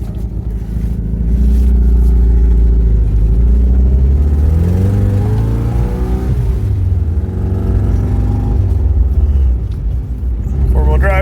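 A truck drives in four-wheel drive, its engine giving a loud, steady rumbling drone that rises and falls in pitch with changes in revs, and a voice talks over it.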